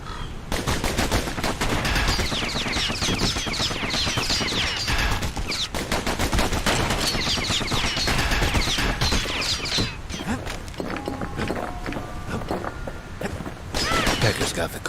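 The Kid's guns fire in rapid, dense bursts during combat in the video game Bastion. A narrator's voice talks over the steady rattle of shots, with game music and effects behind it.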